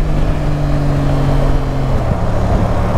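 Yamaha Tracer 7 motorcycle with an Akrapovic exhaust as the throttle is released, a steady loud engine drone with wind rush, heard from the rider's position with no talk.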